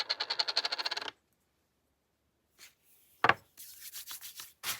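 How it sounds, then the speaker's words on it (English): A sheet of paper wadded and rubbed between oiled hands, a rhythmic scrunching rub for about a second, then quiet with a few faint crinkles and rustles. "If you can hear the sound of it, it's kind of like fabric, and you just wad it, and you keep adding oil to your hand."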